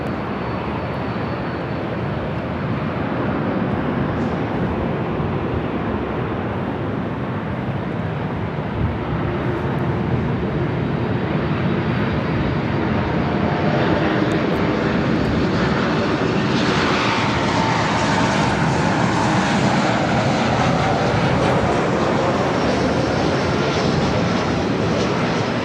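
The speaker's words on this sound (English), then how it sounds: "This next arrival is United Airlines Flight 2331 coming in from Chicago on the MAX 9." A United Airlines Boeing 737 MAX 9 arrives at LAX from Chicago, its engines producing a loud, steady roar that swells and shifts in pitch over the whole stretch with no talk.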